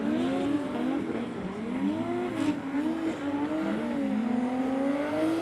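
A drift car sweeps through a corner at a drift event while a second car closes in from behind, engines droning steadily with rising and falling pitch and tyre noise throughout, moderately distant and continuous.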